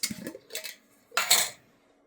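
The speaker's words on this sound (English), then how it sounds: "give it a little stir" Water swirled in a capped jar to rinse a paint stripper filter, two soft clinks and then a brief louder rattling slosh, close and alone.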